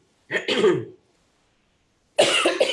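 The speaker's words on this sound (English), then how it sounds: "I'm so sorry about my cough." Two short bursts of coughing, separated by a second of silence, close and fairly loud.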